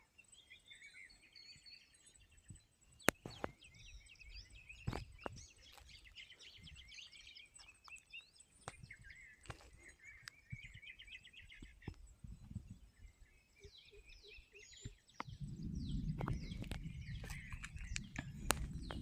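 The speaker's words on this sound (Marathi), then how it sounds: "या टायमातनं पावसाळ्यामध्ये नवीन नवीन पक्षी पाहायला भेटतात" Many wild birds chirp and call in a forest at dusk during the monsoon season, faint and scattered at varying distances, with a low rumble of wind or rain building toward the end.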